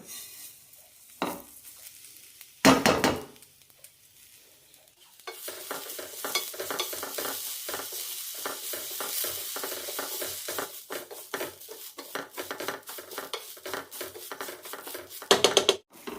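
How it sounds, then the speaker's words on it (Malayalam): Little millet is roasted in a pan with steady stirring. Sparse clicks and taps give way to a loud, continuous frying sizzle with rapid rhythmic scraping strokes, close and without voices. "ഇനി ഇതിലേക്ക് ചാമേരിട്ടൊന്ന് വറുത്തെടുക്കാം"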